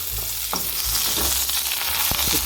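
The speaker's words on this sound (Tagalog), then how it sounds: "maggisa lang tayo ng bawang" Garlic sautés in a pan for pancit, a soft steady sizzle with a few sharp utensil knocks and scrapes of stirring close by.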